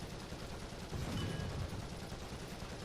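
A British tank's main gun firing in the War Thunder video game, a dense rumbling blast that swells in the middle and then fades into a continuous noisy roar, with no speech over it.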